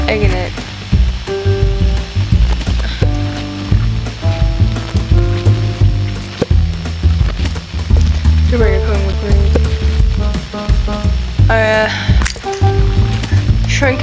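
An egg fries in a video game kitchen with a constant loud sizzle, mixed with tonal game chimes, clicks and effects, while players talk over it.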